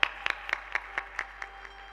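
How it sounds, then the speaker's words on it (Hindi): Audience applause at an ashram gathering honouring an arriving guest. The clapping is short, thin and fairly faint, with a few distinct claps in a loose steady rhythm, and no talking over it. "आप पधारें, एक बार तालियों के साथ उनका आदर कीजिए।"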